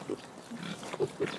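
Pigs in Farming Simulator 2013 grunt and oink softly, several short snorts scattered over a faint steady background.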